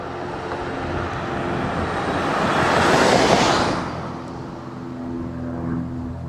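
Airplane flying overhead, a broad roar that swells to a peak midway and then fades, heard outdoors with no talk.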